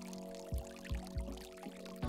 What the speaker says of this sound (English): Slowly and continuously pour water in a steady circular motion over the grounds like this